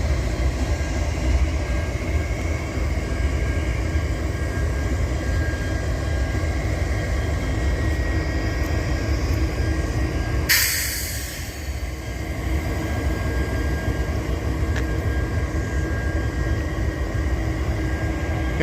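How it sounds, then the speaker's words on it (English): An auto rack freight train rolling past in a continuous loud rumble of wheels and cars, with a sharp burst of hiss partway through before the steady roar resumes, close by and with no voices. "Now here's the auto rack train."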